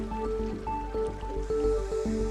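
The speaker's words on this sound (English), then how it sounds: "Has the gooey blurpy mud pots" Thick mud bubbles and plops at the Artist Paint Pots in Yellowstone, with irregular gloopy bursts and drips repeating close by over a low rumble.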